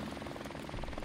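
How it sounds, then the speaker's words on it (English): Helicopter in the game Modern Warfare Remastered, a steady rotor chop with pulsing low thump throughout, mixed with faint game sound and a hint of talk. "Helicopter's doing work right now."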